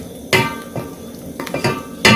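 A metal lid set onto a cooking pot of potatoes, green bananas and carrots, giving a few close metallic clanks and rattles, sharp and spaced apart, over a quiet kitchen background.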